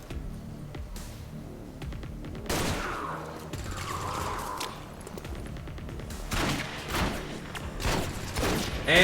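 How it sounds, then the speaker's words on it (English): Rapid gunfire from a soldier emptying a full magazine into a Warlock enemy in the tactical game XCOM 2, bursts of loud close shots with thuds amid game effects, no talking. "Satori just emptied the mag into the Warlock"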